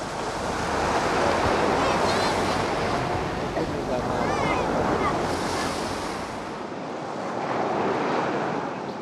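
Sea waves wash steadily onto a beach of sand and big white pebbles, a loud continuous surf roar with rolling swells, mixed with gusty wind buffeting the microphone.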